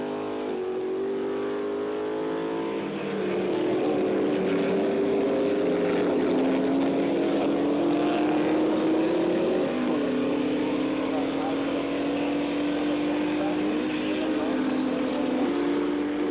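Classic racing cars such as a Ferrari 250 GT SWB and Jaguar E-type roar around a circuit in a race, a steady loud engine drone with rising, overlapping tones as cars pass, while a commentator talks over it.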